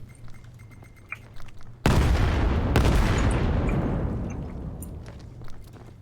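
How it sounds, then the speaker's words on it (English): An artillery strike lands in the VR shooter Vail during a competitive match, a sudden loud explosion at close range followed by a second burst and a long rumbling tail that fades out, after a quieter stretch of background game noise. "early artillery not going to be connecting"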